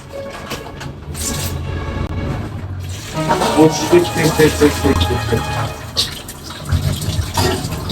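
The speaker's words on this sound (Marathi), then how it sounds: "आपण मडक्यामध्ये पाणी टाकून घेऊ" Water pouring into a clay pot, a splashing fill sound that rises in the middle and continues under background household noise, with a voice briefly present.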